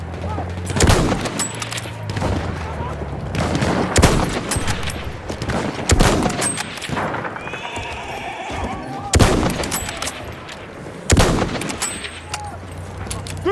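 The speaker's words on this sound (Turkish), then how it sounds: "Orada bir makinalı tüfek var." Battlefield 1 gunfire, with rapid bursts and sharp shots during a Suez battle, loud and close, mixed with horse whinnies and other battlefield noise.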